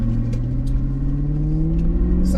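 Harley-Davidson motorcycle with a Screaming Eagle stage 1 kit and Vance exhaust, its engine revving steadily with a deep, loud, rising rumble held close and continuous throughout.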